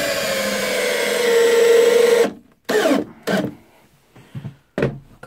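Einhell PXC TE-CD 18/40 cordless drill driving screws: a long, loud whine that rises as the screw sinks into wood, then stops, followed by several short, sharp bursts of the drill.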